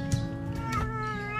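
A cat meows indoors, with a short harmonic cry near the start and further soft mewing over a steady background of household sound.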